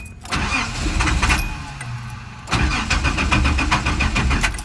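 Engine of a 1982 Datsun 280ZX cranks and turns over in two close bursts, loud and nearby, being run to relieve fuel pressure before the fuel lines are undone.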